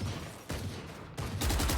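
Several bursts of rifle fire punch through a wall in a Valorant match, loud and close, arriving in three distinct volleys with short gaps and no talking over them.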